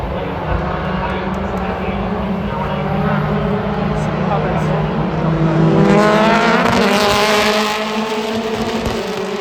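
BTCC touring race cars lapping Brands Hatch in the 2025 season, engines droning loud and steady with rising and falling pitch as cars pass, swelling around the middle, with commentary running over the top.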